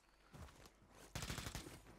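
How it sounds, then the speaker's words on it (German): Two short bursts of test fire from a gun in Warzone, a brief volley followed after a pause by a louder, longer rattling burst, close and clear with no talk. "Kurze Testschüsse hier."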